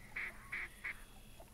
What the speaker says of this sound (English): Oh, there's some more ducks way out there.